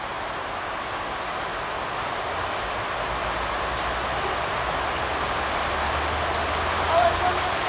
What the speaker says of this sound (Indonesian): Hujannya mulai turun